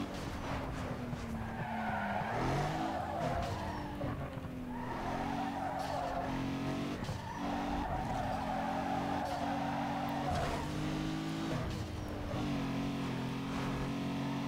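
A racing car's engine roars loud and continuous in Need for Speed Underground 2, its pitch climbing and dropping through gear shifts, with repeated skidding tire squeals layered over the revving throughout.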